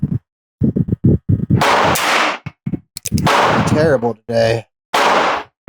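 Heritage Rancher carbine fired at a steel plate rack outdoors: several sharp, loud gunshots spaced a second or so apart, some followed by ringing metallic plate hits, with a brief spoken remark between shots.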